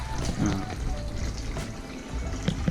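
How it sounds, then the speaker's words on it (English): Water circulates through filled pipes in a homemade circulation setup, a continuous gurgling, running flow with a few brief knocks and splashes, fairly close. "pipes have filled with water, kind of halfway, and now it's all circulating through and coming back through here"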